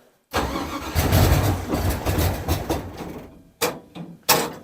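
A car engine cranks over and over without catching, a steady churning run followed by two short bursts of cranking, loud and close with no talk.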